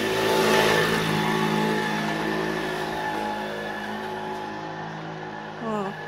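A motorcycle engine revs and drones along a road on the way home from the mart, its pitch rising and falling under a rider's voice, with a brief rising whine near the end.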